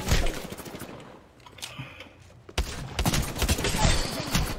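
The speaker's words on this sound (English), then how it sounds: "he's after me with a Spitfire" A Spitfire light machine gun fires in Apex Legends in dense rapid bursts, loud and close, with a lull in the middle before the gunfire resumes, mixed with other game sounds.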